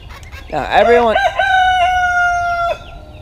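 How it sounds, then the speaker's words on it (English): Roosters crow loudly and close, one long drawn-out cock-a-doodle-doo overlapping another, with no talking. "the roosters are having a showdown"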